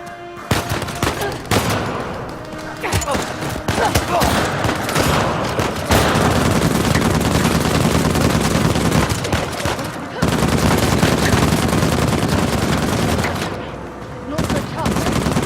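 Video game gunfire in Uncharted: The Lost Legacy, loud rapid bursts of automatic fire and single shots close by, with brief pauses between volleys and a near-continuous barrage through the middle.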